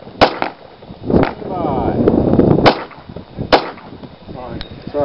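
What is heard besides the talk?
handgun shots during a qualification shooting string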